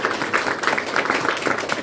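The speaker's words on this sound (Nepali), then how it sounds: "फेरि यहाँको ताली बजाएर स्वागत" An audience at a wedding claps in welcome, a short, dense burst of applause that holds steady throughout.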